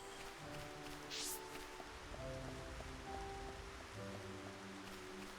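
Soft, steady rain hiss in the video game Xenoblade Chronicles, a quiet, even wash of falling water that runs throughout beneath gentle background music.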